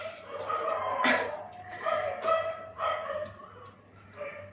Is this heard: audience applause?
no